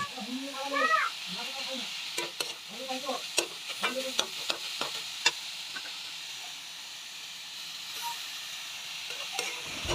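Vegetables fry in a pan for a breakfast dish, giving a faint, steady sizzle with sharp stirring scrapes and taps; a cat meows several times near the start.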